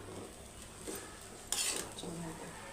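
A spoon stirs sugar into poha upma in a pan, faint clinks and scrapes against the metal with a soft sizzle beneath and a brief sharp rattle midway.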